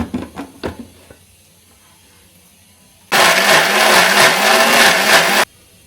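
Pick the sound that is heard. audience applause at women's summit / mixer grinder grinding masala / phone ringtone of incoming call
mixer grinder grinding masala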